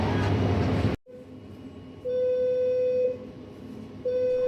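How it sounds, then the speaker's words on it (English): A loud noisy rumble cuts out abruptly, then a ship's safety drill emergency alarm aboard the ferry M/S Stena Danica sounds in long repeated tonal pulses with gaps, over a low background hum. "The safety drill emergency alarm sounded, and the drill had started."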